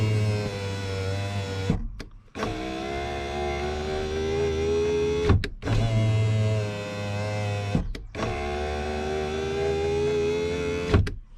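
Power window motor in the driver's-side rear door of a 2016 Mazda 5 whirring with a steady electric hum, running in four long strokes separated by brief clunking stops, close and alone.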